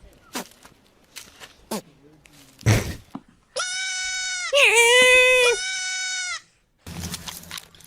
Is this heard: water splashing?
no